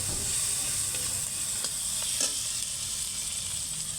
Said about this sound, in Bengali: পেঁয়াজ কুচি দিয়েছি, লঙ্কা দিয়ে দিলাম